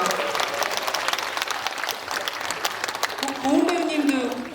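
Audience clapping at a live cinema talk event at CGV Yeongdeungpo, a dense, steady wash of applause throughout, with a voice speaking over it toward the end.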